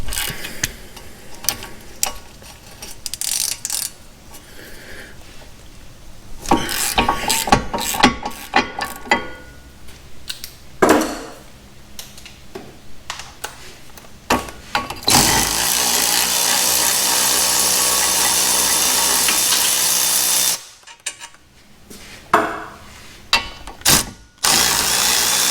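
Tool work on the front brakes of a 2013-2019 Ford Escape, removing the two 18mm caliper bracket bolts: ratcheting clicks and metallic knocks, then a long loud steady power-tool whir, more clanks after a brief pause.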